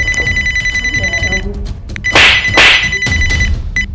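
A telephone rings in bursts of steady electronic trilling, with a pause in the middle and louder, crashing commotion around the second half; voices shout nearby.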